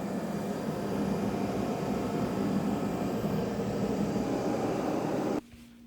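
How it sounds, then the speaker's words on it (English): A LifeSpan TR1200 walking treadmill runs at 6.4 km/h with a smooth, steady motor whir and faint broadband hiss that continue evenly until it cuts off near the end. "It sounds like a quiet motor with high quality bearings."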